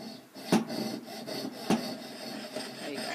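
A hand saw rasps back and forth through wood in uneven strokes, close by, with a couple of sharper scraping pushes standing out.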